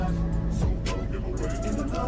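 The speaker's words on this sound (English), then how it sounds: "It's just the sound of my car running." Steady low engine hum of a car idling, heard from inside the cabin, continuous and fairly loud with a brief low tone shift early on.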